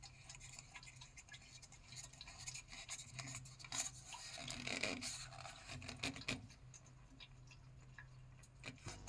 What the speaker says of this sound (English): Screw the manometer back into place.